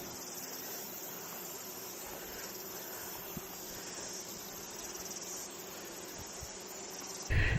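A steady, high drone of bees in a lavender field fills the air with no break, faint and constant, ending in a brief rumbling bump of handling noise.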